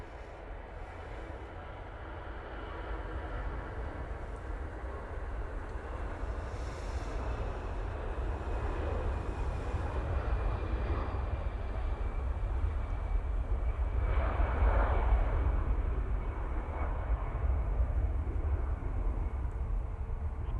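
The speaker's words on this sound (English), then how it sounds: "Finnair now on the roll." Finnair airliner on its takeoff roll at Manchester Airport, a broad, rumbling jet roar that slowly swells and grows louder over the stretch, heard at a distance with wind in the background.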